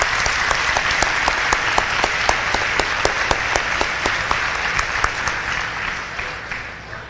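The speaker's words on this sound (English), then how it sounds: "Let's give them a round of applause." An audience at a Veterans Day ceremony in a high school applauds, a steady crowd of clapping hands with sharp individual claps standing out, sustained and then tapering slightly at the end.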